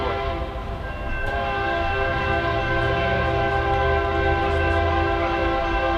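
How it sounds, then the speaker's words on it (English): A BNSF freight locomotive passes a Dalton, Georgia rail line, its horn sounding a loud, sustained chord over the steady heavy rumble of the moving train. "it sounds like a BNSF engine of some sort"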